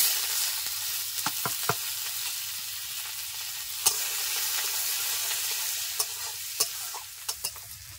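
Chopped onion fries in oil with cumin, bay leaf and dried chilli, stirred in the pan, giving a continuous close sizzle marked by intermittent spatula taps and scrapes, no speech.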